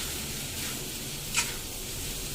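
Steady hiss of a spice tempering sizzling in a hot pan, continuous and close, with a brief sharp crackle partway through.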